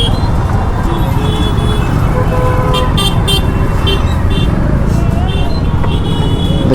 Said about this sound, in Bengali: এটা হচ্ছে গাড়ির ভিড়।